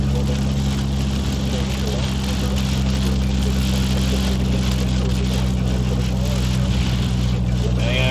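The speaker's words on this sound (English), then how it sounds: "I apologize for the exhaust noise" A storm-chasing car's loosened exhaust drones loudly and steadily as it drives, a deep continuous rumble with a harsh rattling edge over road and rain noise, while someone talks throughout.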